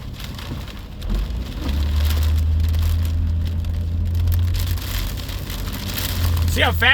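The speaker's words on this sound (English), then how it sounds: "See how fast that truck took off?" A big truck pulls away on a rain-soaked road in a wind and rain storm on the Oregon coast near Yachats, its low engine rumble building and holding under steady rain hiss, with a brief swishing pass near the end.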